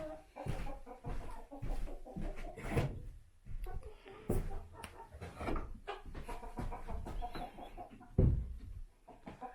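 Chickens inside a homestead coop, scattered clucks and short calls in close, uneven bursts, with some bumping or door-like knocks mixed in.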